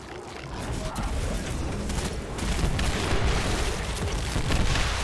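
Cluster bomb blasts in the video game Destiny 2, a dense rolling barrage of loud booms and bursts layered continuously throughout, with faint talk underneath.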